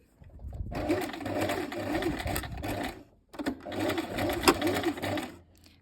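A domestic sewing machine stitches a trouser seam in two steady runs of rapid mechanical whirring, with a short pause between them for a backstitch, close and clear with no talking.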